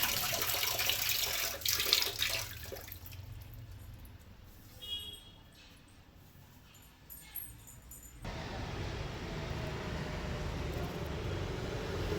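Water runs from a tap or hose while potted plants are watered at home, a close hissing gush at the start, easing off, then returning strongly near the end.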